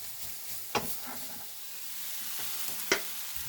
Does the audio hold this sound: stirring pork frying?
yes